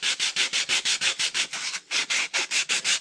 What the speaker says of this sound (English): I'm just going to take some hand 220, sand with the grain